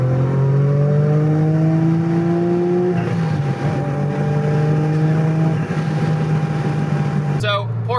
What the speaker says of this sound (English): Just a little bit of the turbo spool